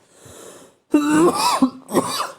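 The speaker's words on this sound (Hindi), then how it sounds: "सॉरी मेरी खांसी आ ही जाती है" A soft breath, then a couple of harsh, throaty coughs with a raspy wheeze, close and loud, with no talking.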